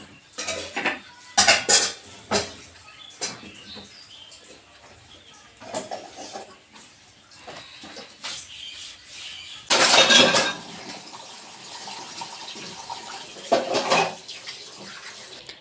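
Dishes and pots scrubbed and rinsed under a running tap, with intermittent clinks and clatters of metal utensils and a louder burst of gushing water partway through, close and unaccompanied by talk.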